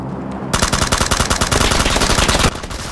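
Rapid automatic gunfire in PUBG rattles for about two seconds in a dense, loud burst, opening and closing on quieter game background.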